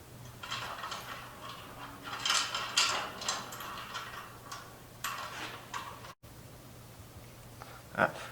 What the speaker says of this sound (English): All I gotta do is bolt it on now.